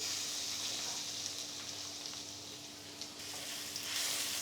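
Chopped garlic sizzles in olive oil in a wok, a steady close frying hiss running alone and evenly throughout.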